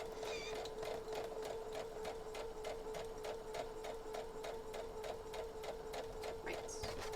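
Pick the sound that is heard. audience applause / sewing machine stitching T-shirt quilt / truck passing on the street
sewing machine stitching T-shirt quilt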